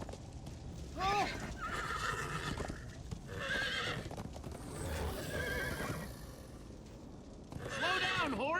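A horse neighs loudly several times over rapid galloping hoofbeats in the video game Minecraft: Story Mode, with voices talking in between.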